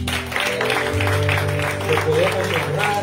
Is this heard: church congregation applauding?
yes